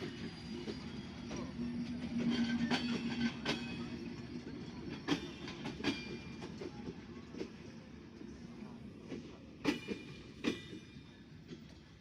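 An overcrowded passenger train running near Noapara station, a low rumble with occasional clanks and wheel clicks, heard from nearby at modest loudness.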